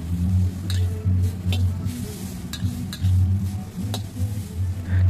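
Rice noodles and shrimp being stirred in a pan for Singapore-style fried bihun, with a steady scraping and clatter of the utensil against the pan and faint sizzling beneath, under a constant low hum.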